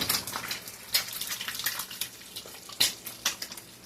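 Crackling sizzle of food frying in a pan, with irregular sharp pops and spits over a steady hiss, close by.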